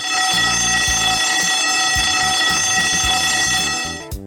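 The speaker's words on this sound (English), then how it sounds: "alarm bell" A fire suppression system's alarm bell rings continuously at close range, a loud steady metallic clanging for the first alarm zone detection, with no voices.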